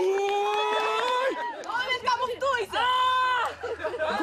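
Spectators cheer on a youth firefighter team at a competition in Donbass, excited shouting and crowd voices rising and falling, with a clear voice calling out over the background hubbub.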